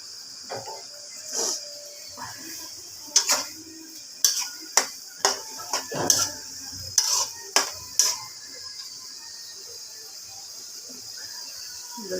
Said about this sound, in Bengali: রান্নাটা হচ্ছে, ঢেলে দিলাম তরকারি। কষাইতেছি।